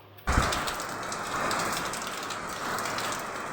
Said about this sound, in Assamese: যিহেতু বৰষুণ পৰি আছে